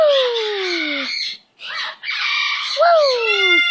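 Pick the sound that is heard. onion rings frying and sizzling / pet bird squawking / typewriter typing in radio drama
pet bird squawking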